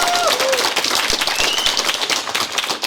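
Applause and clapping from an audience at a Kazakh-language rap battle event, a dense crackle of hands filling the hall throughout, with crowd noise and brief whistle-like tones early on.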